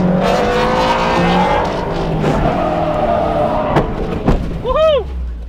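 A Mazda Miata is driven hard while drifting: a revving engine with shifting pitch and some tire noise, followed by a couple of sharp knocks and a brief warbling tone near the end.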